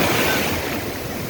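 Storm waves surge and roar on the Sea of Azov at Golubitskaya, a loud, continuous wash of surf with wind noise buffeting the microphone and no voices.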